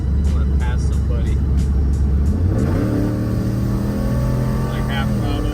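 Single-turbo Ford F150 accelerating from highway cruise to pass, heard from inside the cab as a steady loud engine drone that climbs in pitch partway through, with a voice talking over it.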